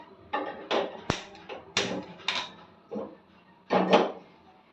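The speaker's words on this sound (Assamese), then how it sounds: "মই কেৰাহীখন তুলি লওঁ।" A series of separate metallic clanks and knocks as a hot metal wok is lifted, close by, with one sharp ringing clang partway through and a louder cluster near the end.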